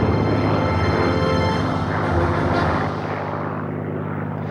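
A Messerschmitt fighter roars past at an air show, its propeller engine loud and droning close by before gradually fading into the distance, with no talk.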